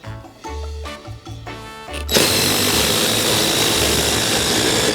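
DeWalt brushless power tool running on a battery: after a few brief revving starts and stops, the motor kicks into a loud, sustained high-speed whine heard close and alone.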